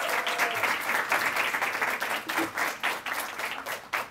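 Sustained applause from a conference audience greeting the chair at a welcome session, dense steady clapping filling the room throughout, with no speech over it.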